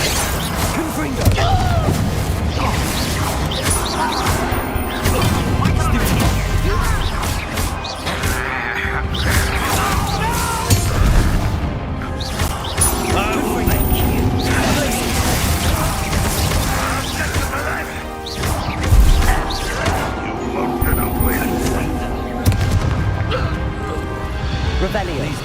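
Combat in the Hogwarts Legacy video game with Confringo explosion spells: dense, continuous booms, crashes and thuds under a steady game score, with spoken voices mixed in throughout.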